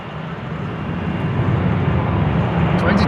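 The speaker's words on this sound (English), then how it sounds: "KLM flight 1583 to Lisbon, 737-900." A KLM Boeing 737-900 jet roars steadily at Schiphol airport on a showery day, a broad, sustained engine rumble that swells slightly louder toward the end.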